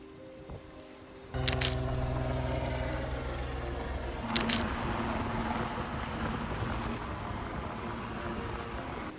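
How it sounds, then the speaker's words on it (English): Wind rushes steadily across a Navy sailing yacht at sea, a broad continuous roar with a louder gust surge partway through and low tonal hum beneath, no voices. "we are currently on the Navy sailing yacht"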